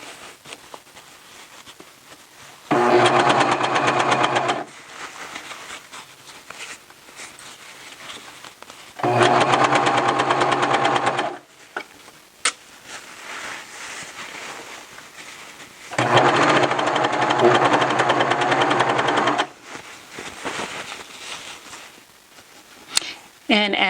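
A serger sewing machine stitching a T-shirt runs in three steady whirring bursts of several seconds each, separated by pauses, with a person talking quietly in between.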